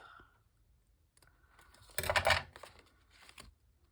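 Paper snipped with scissors to cut off a leaf shape, giving a few close, quiet clicks and a short, louder burst of cutting and rustling with no voices.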